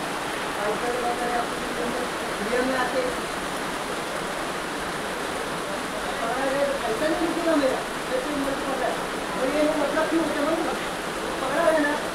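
A steady, heavy wash of rain fills the scene with a constant hiss, and voices talk faintly beneath it.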